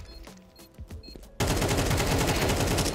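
Counter-Strike 2 gunfire erupts suddenly after a stretch of quieter game sounds, a loud continuous stream of rapid shots filling the rest of the moment, close and dominant.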